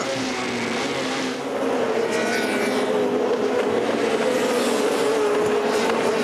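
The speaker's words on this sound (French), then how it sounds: "On voit les 2 voitures au coude à coude." WTCC touring race cars run side by side at the Valencia circuit in 2006, a steady, loud engine roar sustained throughout with a brief dip, close and continuous.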